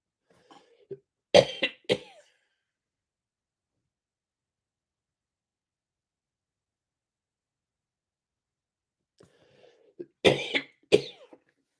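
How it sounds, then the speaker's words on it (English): Two bursts of harsh coughing, a couple of coughs each, separated by a long silence. "I'm coughing here"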